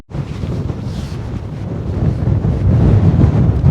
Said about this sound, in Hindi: और बर्फीली हवा, ठंडी हवा एकदम।